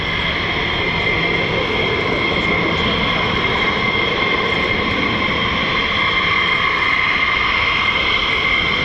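F-15 or F-35 fighter jet engines roar at RAF Lakenheath, home of the 48th Fighter Wing, as a loud, steady, broadband rumble with a faint hiss that holds continuously throughout.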